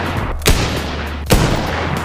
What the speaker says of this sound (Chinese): 还有这个啊，在800米开外啊，就能给墙壁开个桶的狙击枪